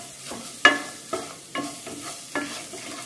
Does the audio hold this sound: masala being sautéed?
yes